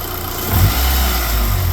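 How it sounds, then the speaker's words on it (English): A 2003 Mitsubishi Lancer OZ Rally engine, fitted with an aftermarket fuel pressure regulator, gives one short throttle blip over a steady idle, rising briefly before settling back to a low rumble. "I'll give you guys a little rev here."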